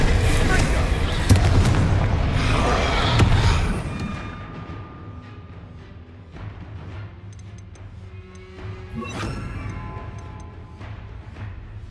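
Explosive Bombarda spell blasts in the video game Hogwarts Legacy, a loud rumbling barrage of booms that settles into a lower, sustained din with scattered crackles and another burst near the end.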